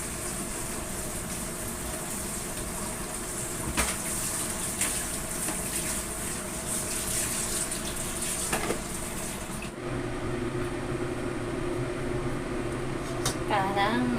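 Chicken is washed under a running kitchen tap, giving a steady gushing stream of water that continues throughout, with a shift in tone partway as the flow changes.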